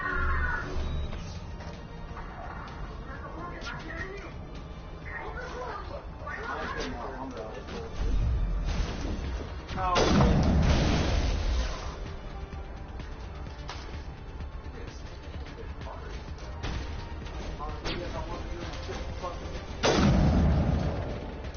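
Sniper rifle shots boom in the video game Warzone, a few heavy, spaced blasts over background game noise, while a player talks throughout.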